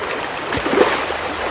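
A rocky river flowing outdoors, a steady broadband wash of moving water with a brief splash or step near the middle, continuous and moderately close, with no talking.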